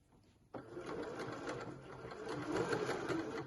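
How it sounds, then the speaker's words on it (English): A sewing machine stitching round a curve on pyjama pants starts abruptly and runs in a steady, fast, close mechanical whir with rapid needle ticks, speeding up slightly near the end. "if you ever find it tricky to sew round a curve, then you can reduce your stitch length."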